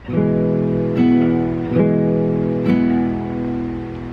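An acoustic guitar picks a repeating pattern, a low bass note starting each group of ringing strings, played up close at a steady pace.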